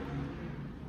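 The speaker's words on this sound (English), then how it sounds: "People decide they want to ride motorcycles this late at night," A low engine rumble drones steadily throughout, like a vehicle passing outside at a moderate distance, with no voices.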